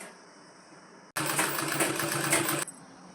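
An electric sewing machine stitches a petticoat in one loud, close burst of rapid whirring lasting about a second and a half, with quiet room tone before and after.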